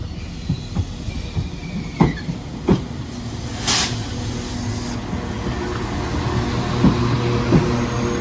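A 2-car Class 197 diesel unit rolls into a busy station platform, close and loud, with rumbling wheels, rhythmic clacks over rail joints and a brief high squeal as it slows; no voices.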